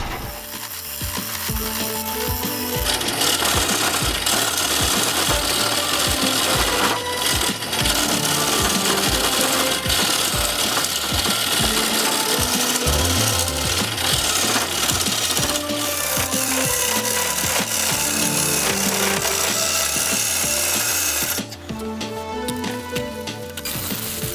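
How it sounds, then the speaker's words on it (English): A wood lathe spins a bowl blank held in a Nova chuck, making a continuous, loud mechanical whirr with rapid rattling and grinding texture that holds steady nearly throughout, with no talking. "you are able to bore out the center of the bowl using the chuck to hold the blank onto the lathe"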